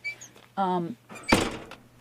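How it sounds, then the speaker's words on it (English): A door being shut to keep heat inside an RV: a sharp broadband thud lands near the end, close and fairly loud, after a stretch of a voice talking and vocalizing. "I gotta shut the door, so keep the heat in."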